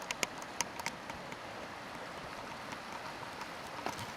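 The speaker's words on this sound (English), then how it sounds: "here's kind of a little shot of the creek" Creek water flowing steadily in the Lost Creek Wilderness along the Goose Creek Trail, a soft continuous rush with a few brief splashy ticks, heard up close and alone.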